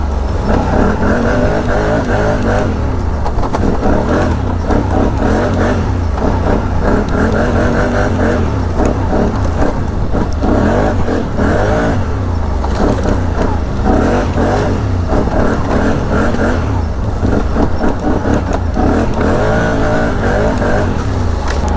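A 2023 Can-Am Outlander 850 XMR ATV engine revs loud and close while riding, its roar rising and falling continuously and steadily throughout without a break.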